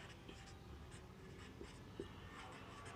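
Marker or chalk writing on a board during a Bengali accounting lesson: soft scratchy strokes in short bursts over a steady room hum, fairly quiet.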